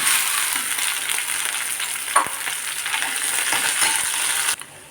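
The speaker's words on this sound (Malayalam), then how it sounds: "വെളുത്തുള്ളി വഴന്നു കഴിഞ്ഞ് നമ്മൾ വെണ്ടയ്ക്കയാണ് ഇടുന്നത്." Okra sautés in hot oil with garlic in a pan, a loud continuous close-up sizzle and crackle with a brief clink of a stirring utensil partway through, fading out abruptly at the end.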